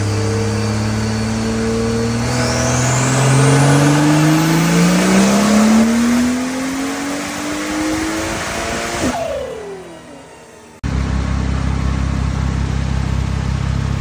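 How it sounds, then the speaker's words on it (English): A turbocharged BMW 340xi drag car, run rear-wheel drive with the transfer case unplugged, revs hard on a dyno, its engine note climbing steadily for several seconds with turbo whine before abruptly dropping off, then a steady loud drone. "Now to hit the dyno."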